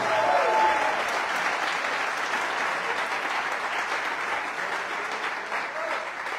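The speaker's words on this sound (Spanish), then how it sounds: "¿Cuántos dan palmas de alabanza para el Señor?" A church congregation claps in praise, a sustained, even sheet of applause from many hands in a hall, with a faint voice briefly heard at the start.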